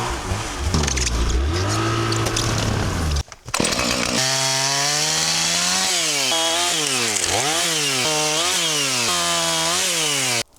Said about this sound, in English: so I'm going to use the chainsaw today.